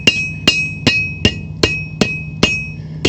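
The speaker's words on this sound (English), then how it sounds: "Put it on the edge and hit it with your mason's hammer" A mason's hammer strikes the metal bars inside a transformer eight times, sharp ringing clanks at an even pace of about one every 0.4 seconds, close and loud.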